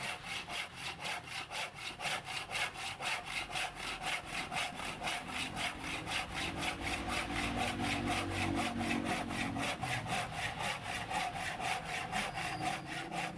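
A freshly sharpened hand saw cuts through wood in fast, even back-and-forth strokes, a steady rasping rhythm that stays close and loud with no talking.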